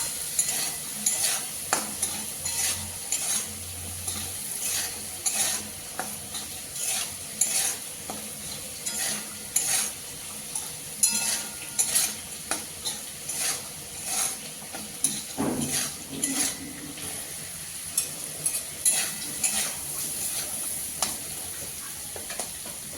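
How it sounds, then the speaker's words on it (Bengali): Potatoes and green peas sauté in a pan, with repeated rhythmic scrapes and clatters of a spatula over a soft continuous sizzle, heard close and alone. "মটরশুঁটি আমি আলুর সঙ্গে প্রায় 1 মিনিটের মতো কষিয়ে নেব।"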